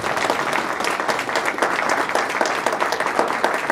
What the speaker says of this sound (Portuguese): Uma salva de palmas para o Rômulo.